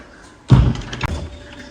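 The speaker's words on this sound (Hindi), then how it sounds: "चलो दरवाज़ा बंद कर दो।" A door is pushed shut indoors, giving a single solid thud followed half a second later by a sharp latch click, close and clear.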